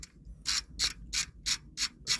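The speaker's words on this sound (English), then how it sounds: "You're gonna need 10mm socket. You're gonna remove the top nut, and there's a 1 or 2 bolts at the bottom." A ratchet fitted with a 10mm socket turns a nut off a Dodge Journey during crankshaft sensor work. It gives seven evenly spaced, crisp clicking strokes, close and alone.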